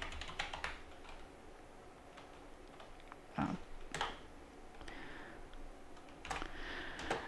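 Keystrokes on a computer keyboard clack in irregular bursts at close range, with short pauses between clusters of quick taps and no voices.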